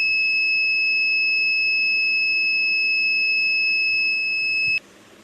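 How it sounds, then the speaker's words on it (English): A steady, piercing electronic buzzer tone from a hand wash reminder drones continuously for several seconds, then cuts off abruptly near the end, leaving quiet background hiss. "the buzzer is turned on"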